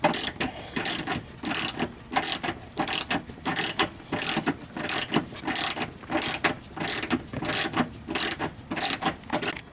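Ratchet tightening seat bolts on a GM/Chevy car seat: rapid, repeated clicking bursts in a steady rhythm, close and fairly loud, with no talking.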